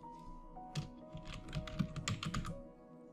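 Close, quiet typing on a computer keyboard while searching for a widget in a WordPress site builder, a brisk run of light keystrokes over a soft background tone.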